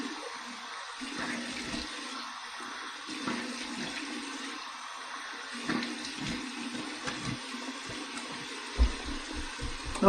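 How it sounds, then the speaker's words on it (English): Cold tap water runs steadily into a sink for a rinse after shaving with a razor, a soft, continuous splashing stream with small fluctuations and no voices. "Here's my cold water rinse."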